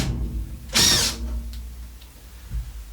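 A power drill backs out a screw during a DIY motorhome build, one short loud whir near and clear, then quiet handling noises.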